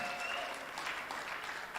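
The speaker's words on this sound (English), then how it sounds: "Can we give the panelists a round of applause?" An audience at a conference panel session claps for the panelists, a dense, steady burst of applause from a roomful of people that lasts the whole moment.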